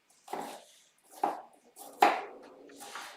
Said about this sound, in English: So if I just cut these up.